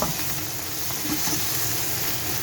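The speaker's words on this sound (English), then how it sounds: "my garlic and ginger paste, some red chilli paste, some coriander stalks, and just cook that out. And I help brown the onions a little bit as well." Onions fry in a pan with garlic ginger paste, red chilli paste and coriander stalks, giving a loud, steady sizzle and crackle with no talking over it.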